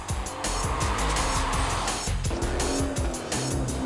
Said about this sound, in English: The amazing sound coming from beneath the bonnet is a 400 horsepower 32 valve V8